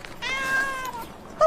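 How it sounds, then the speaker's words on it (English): Wilberforce the cat meows in a long, drawn-out cry, followed by a short, sharper second meow, close and clear in a quiet indoor radio drama setting. "That's my cat."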